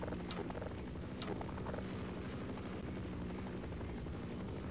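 Helicopter in the video game Half-Life, a steady rotor thump and engine drone holding at moderate level throughout without any talk.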